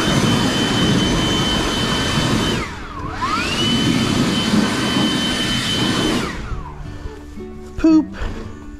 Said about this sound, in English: So I used the blower to blow out the dust